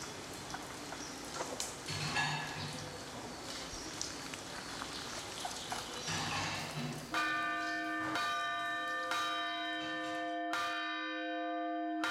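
A monastery church bell rings out in Bulgaria, calling to evening service; after a stretch of outdoor ambience, sustained ringing strikes with long overlapping tones dominate the second half, loud and resonant with a brief gap near the end.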